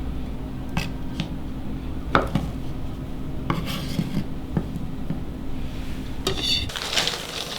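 A knife slices sausages lengthwise on a cutting board, giving a series of sharp, close clicks and scraping taps at irregular intervals over a low, steady background hum.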